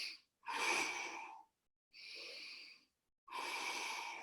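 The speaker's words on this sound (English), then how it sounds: "I'm going to transition, breathing in nose," Controlled breathing during a cold tub plunge, drawn in through the nose and pushed out through the mouth, in three close, distinct breaths separated by short silences.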